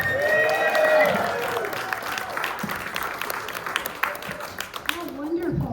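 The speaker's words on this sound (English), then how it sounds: "To have people clapping for you again." Audience applause at a retirement party, a steady patter of many hands clapping close by that thins out toward the end, with voices and a few calls over it.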